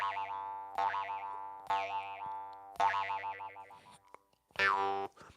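A jaw harp twangs with a bouncy, Tigger-like boing, several separate plucked notes whose tone wobbles and warbles as they ring, quiet and close with no talking.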